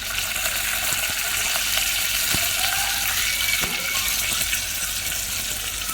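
Mustard seeds and cumin sizzling and crackling in hot oil, a steady broadband fry hiss with a few sharp pops of seeds, close and continuous throughout.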